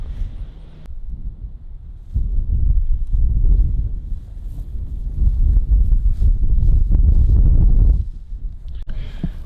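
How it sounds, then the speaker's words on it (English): Strong gusting wind buffets a microphone outdoors at a racetrack, a loud low rumbling roar that swells for most of the stretch and eases briefly at the start and end. "It is super windy out here."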